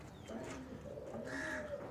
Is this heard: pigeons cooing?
yes